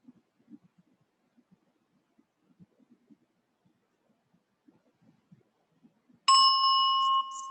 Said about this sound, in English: until you hear the sound of the bell.